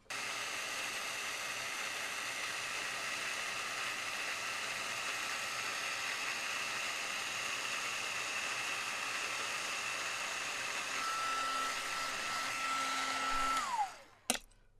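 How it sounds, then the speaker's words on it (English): A heat tool blows hot air to melt embossing powder in a craft project, giving a steady, close whooshing roar that lasts about fourteen seconds before it switches off with a falling whine and a click. "I'll get my heat tool warmed up and we'll melt the powder"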